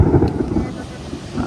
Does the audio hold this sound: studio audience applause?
no